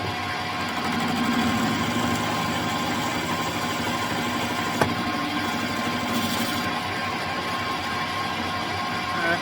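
A steady, even machine drone runs throughout as the edge of a motorcycle pulley for a handmade custom Harley chopper is machined, with one faint click partway through.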